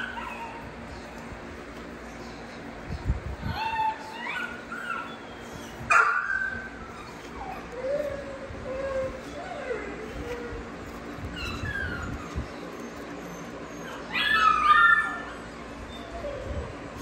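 XL pitbull dogs whimper and let out short yips, scattered high cries coming and going at moderate distance over a steady background hum, with a louder burst near the end.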